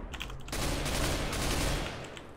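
Rapid gunfire from a scoped weapon in a video game, a dense sustained burst of shots that starts abruptly and rolls on loudly for about two seconds before easing off.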